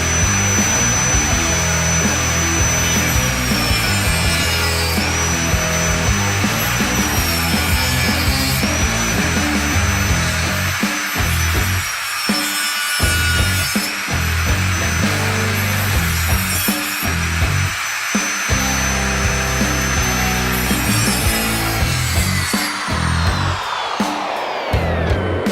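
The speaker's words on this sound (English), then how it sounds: "I'm not going to chop real close because I want enough room to sand it down, but I'm going to cut quite close." A power tool cutting close on a stop motion puppet, running as a steady, loud, continuous whine and grind for the whole stretch, with slight shifts in pitch as it bites, then spinning down at the end.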